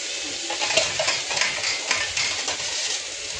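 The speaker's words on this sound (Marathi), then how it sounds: "बारीक गॅस करून मी त्याच्यावर शेकणार आहे." Chicken tandoori sizzles steadily in a pan over a low gas flame, a close, continuous frying hiss with light stirring and utensil scrapes throughout.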